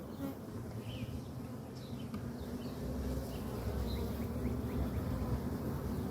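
Dense, steady buzzing of a swarm of honeybees close by, taken from brood frames, growing louder and fuller about halfway through.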